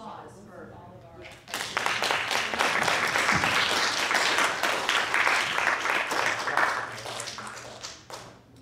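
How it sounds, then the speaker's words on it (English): An audience at a talk on Chinese opera face painting breaks into sustained applause, a dense wash of many hands that swells in after a quiet start, holds steady for several seconds and then fades. "And a round of applause for all of our."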